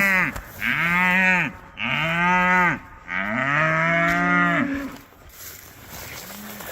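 Red Angus cattle on a Maine farm moo loudly and close by, three long drawn-out calls in a row followed by a fainter short one, with no talking.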